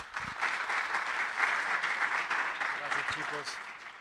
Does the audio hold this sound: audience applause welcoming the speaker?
yes